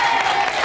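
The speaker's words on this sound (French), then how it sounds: "On peut l'applaudir" A brief burst of audience applause in a French TV studio: dense, steady clapping from a crowd, loud and continuous for under a second.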